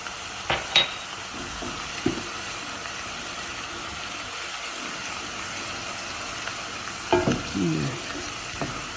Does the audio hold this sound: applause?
no